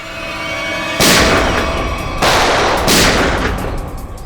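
Bursts of gunfire ring out in a TV crime drama shootout, loud close blasts in three heavy volleys with rattling, echoing tails between brief pauses, no talk over them.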